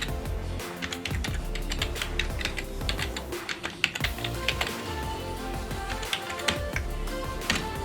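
Tags being typed on a computer keyboard, a rapid, irregular run of close, crisp key clicks lasting throughout with a few louder taps and no talk.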